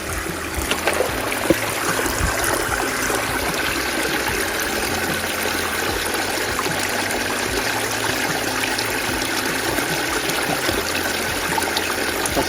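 A stream at a water source along the Appalachian Trail runs steadily and fairly close, a continuous trickling rush with no one talking.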